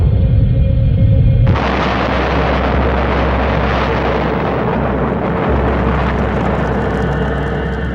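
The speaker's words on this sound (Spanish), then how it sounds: "La región de Tunguska contempla la mayor explosión de la historia de la humanidad." A deep, loud rumbling boom from the Tunguska explosion erupts suddenly and rolls on as a sustained roar with no voices.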